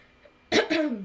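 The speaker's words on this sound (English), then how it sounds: "I have to clear my throat a little bit" A short, close throat clearing in two rough bursts, a harsh rasp followed by a lower voiced rumble, heard alone in a quiet room.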